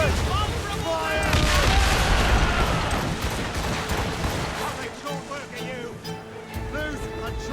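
Heavy ship cannon broadsides boom and rumble in Assassin's Creed Rogue naval combat, with crashing water and wave wash, while shouted commands ring out over the barrage.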